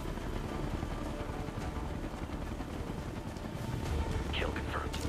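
A helicopter in the Ghost Recon Future Soldier video game makes a continuous rumbling drone under game sounds and someone talking.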